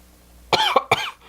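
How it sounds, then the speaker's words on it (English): Two harsh, close coughs in quick succession, each a short rough burst, with quiet between them and no talking. "I'm coughing up a lung here."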